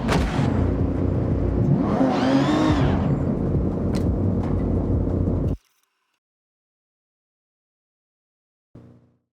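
A car in the video game Forza Horizon 6 drives loud and close with a rising whir, then cuts off abruptly into silence before a short burst of sound near the end.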